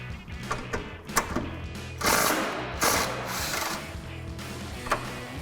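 A power tool works a 10mm brake line mount bolt on a 2005-2014 Ford Mustang, giving close, uneven rattling bursts and clicks that swell louder for a couple of seconds, with no talking.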